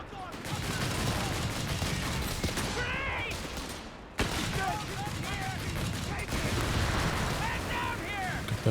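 Rifle volley gunfire in Company of Heroes 3 during a 1v1 match, a dense, continuous barrage of shots and battle noise running loud throughout, with a brief dip midway before the firing resumes.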